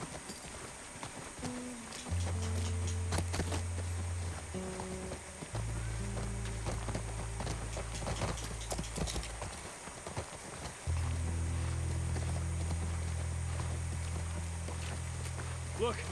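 In The Last of Us Part 1, a horse trots slowly with steady rhythmic clip-clopping hooves, up close, under low droning game music and ambient noise.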